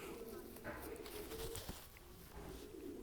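Racing pigeon cooing softly in a loft, low murmuring coos over a faint busy background.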